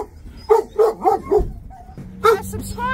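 A dog barks several times in quick bursts, then again after a short pause, close and loud, with people talking around it.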